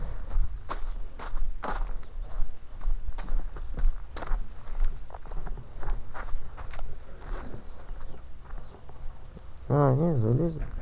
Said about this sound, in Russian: Лошади.